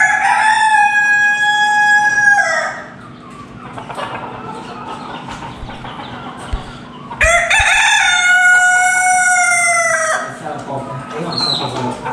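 Long-tailed chickens kept in an air-conditioned room, a rooster crowing twice with loud drawn-out calls, near and clear, separated by a quieter stretch of clucking and shuffling.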